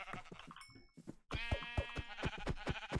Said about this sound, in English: I found lots of sheep.